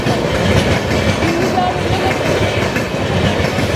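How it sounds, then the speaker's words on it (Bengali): The North East Express pulling out of a station, a steady loud rumble of rolling wheels and rail noise close by, with a faint brief squeal. "নর্থ ইস্ট এক্সপ্রেস বেরোচ্ছে"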